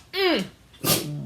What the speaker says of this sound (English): I guess Reese's took my sneezes.